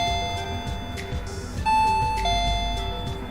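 Solar-powered doorbell ringing close by, bright electronic chime tones stepping through a short melody, loud and clear with faint background hiss and no talk.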